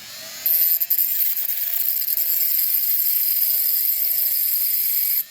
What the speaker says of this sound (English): put this thing in between my fingers using this Dremel like this